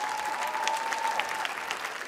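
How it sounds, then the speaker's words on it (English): A live audience at an entertainment festival panel talk claps steadily in dense, even applause that holds throughout, with a faint tone running beneath. "Give our panelists a round of applause"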